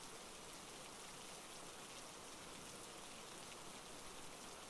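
Steady rain falls continuously outdoors, a dense even hiss of drops striking surfaces with no breaks, moderately loud and without voices throughout.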